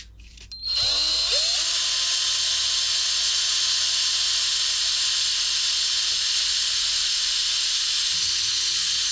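A power drill bores a pilot hole while a cheap tumbler turner is being made into a lure turner, starting abruptly and then holding a loud, continuous high whine close by with no talk.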